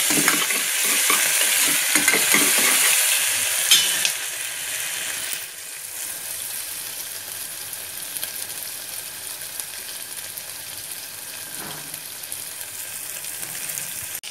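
Ginger garlic paste fries and sizzles steadily in a hot pan while cooking an ivy gourd masala curry, loud and close at first with brief stirring, then settling into a softer continuous hiss.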